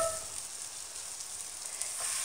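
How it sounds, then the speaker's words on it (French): Mlawi flatbread cooking on a lightly oiled tagine plate makes a faint, steady, close hiss that stays even for a couple of seconds, with no voices. "je vais commencer la cuisson sur une plaque tagine."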